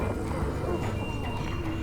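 Horses in The Walking Dead video game, a steady dense rumble of hooves with a possible whinny, continuous and fairly loud under a busy game soundscape.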